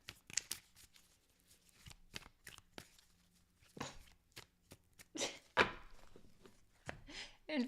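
A tarot deck is handled close up with a scattered series of sharp card taps and snaps, some single and some in quick pairs, with brief soft riffling between them.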